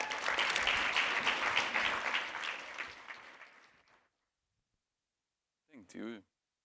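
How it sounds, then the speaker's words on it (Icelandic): Audience applause for the final presenter at a conference session, a dense burst of clapping that fades out over about four seconds, followed by silence and a brief voice. "Símon Ólafsson, gefðu honum gott klapp"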